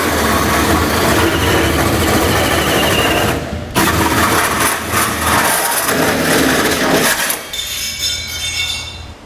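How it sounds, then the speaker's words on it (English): A loud, steady grinding whine of a hole saw biting through the sheet metal bed of a 2017 GMC Sierra 2500 truck, with a brief pause and shifts in pitch as the cut continues. "we'll use that as a guide for our hole saw now."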